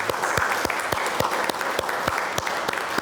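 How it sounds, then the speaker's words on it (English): A crowd applauds steadily, dense clapping from many hands filling the whole stretch at a strong, even level. "let's give him another big round of applause."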